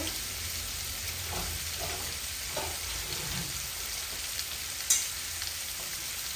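Rohu fish frying in a pan, a soft, even sizzle of hot oil that stays constant and fairly quiet, with one brief clink partway through.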